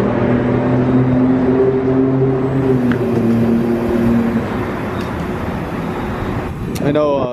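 A Toyota Supra heading home through light traffic, its low steady engine hum and road noise continuous from start to finish, with a brief rising tonal sweep near the end.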